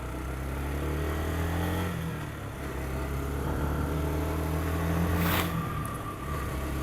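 A motorcycle engine runs steadily at night after its choke is adjusted, with a close, loud, continuous drone that swells slightly in revs and has no talk.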